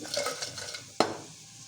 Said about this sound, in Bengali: তেলের মধ্যে একটুখানি জিরো করে দিয়ে পেঁয়াজ আর আলুগুলোকে ভেজে নিচ্ছি